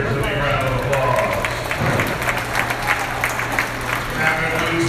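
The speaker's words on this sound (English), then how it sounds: "Let's give all those exhibitors a big round of applause." Audience applause at a dairy goat show for the exhibitors: a steady, dense wash of clapping from a crowd filling the whole stretch, with faint voices mixed in.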